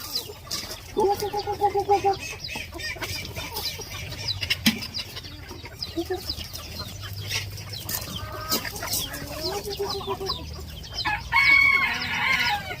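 Thai white-eared ornamental game chickens of several colours clucking and calling in a backyard flock, with repeated clucks, a few longer crowing calls and people talking nearby.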